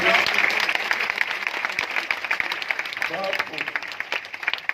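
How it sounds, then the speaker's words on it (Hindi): An audience at an English-medium school education conference applauds the children, a bright, dense patter of clapping that starts strong and gradually loosens, with voices faintly mixed in. "जोरदार तालियों से बच्चों को हौसला बढ़ाएं।"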